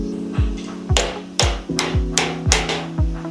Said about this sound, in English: There's a tab at the top here that needs knocking down.